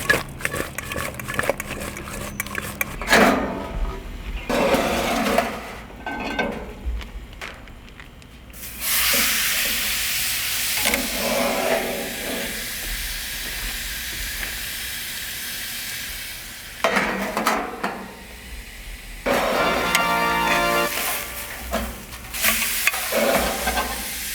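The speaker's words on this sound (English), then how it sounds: "Peppers and onions, we're gonna be doing those in a classic lodge style 12-inch, kind of deeper handled cast iron." Peppers and onions sizzle in a deep 12-inch Lodge cast iron skillet, loud bursts of hissing frying alternating with quieter stretches as the vegetables are stirred and moved.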